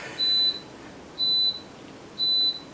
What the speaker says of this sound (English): that was the end of the dishwashing cycle